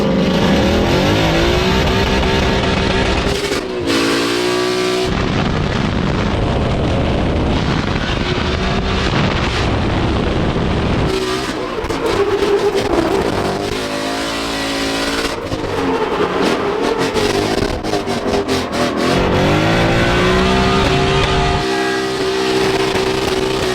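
A Mercedes car tears around a drift track on a fast lap, its engine revving hard and roaring through repeated gear changes and throttle bursts, loud and close with wind buffeting the microphone throughout.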